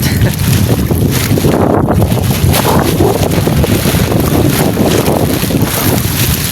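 Strong wind roars across the microphone over the steady rumble of open water and a squid-fishing boat, loud and continuous throughout.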